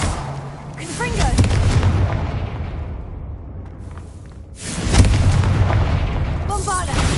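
Confringo fire spell blasts in Hogwarts Legacy, two heavy booming bursts with rumbling tails, loud and near, with brief voice fragments between them.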